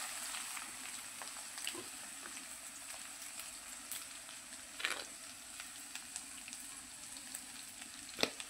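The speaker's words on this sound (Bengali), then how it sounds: "কালো জিরে ফোড়নটা দেওয়ার পর বেগুনগুলোকে দিয়ে দিলাম আমি" Eggplant pieces frying in oil with nigella seeds, a faint steady sizzle with a few scattered pops and clinks, quiet and close, no talking.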